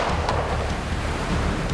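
Incoming sea tide rushing outside a coastal swiftlet-nest cave in Indonesia, a steady broadband roar of surf and wind with low rumble, continuous and fairly loud throughout.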